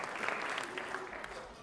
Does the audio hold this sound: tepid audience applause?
yes